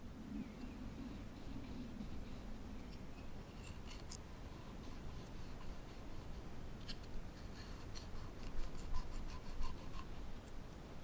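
Knife slicing into a raw carrot to carve a whistle, quiet cutting and scraping with a few sharp crisp clicks and rubs, close up and faint, with no voices.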